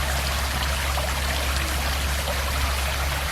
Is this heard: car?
no